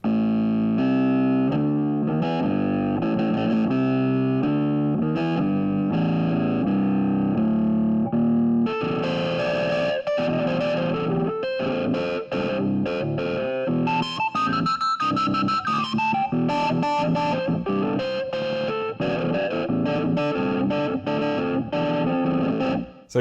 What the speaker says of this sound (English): I will show you what some of these guitar lead presets sound like.